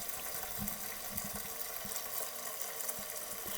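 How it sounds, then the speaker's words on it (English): Fresh tap water runs into a pot for soaking pink beans, a faint, even hiss with a few small knocks and clunks, and no talking. "Now I'm just getting some fresh water for these beans"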